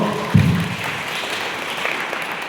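Guests break into a burst of clapping at a wedding reception, a short loud onset that settles into steady, diffuse applause across the room with no talking over it.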